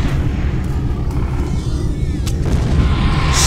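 Dense, continuous battlefield din from a WWI video game set in 1916, with booming explosions and gunfire blending into a loud, steady low rumble and a few sharp cracks near the end.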